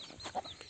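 A brief, close chicken cluck, a couple of quick clucking notes from a single bird in a short burst.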